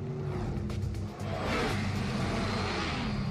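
A car engine runs close by with a steady rumble. Its sound dips briefly, then swells back louder and holds, with no voices present.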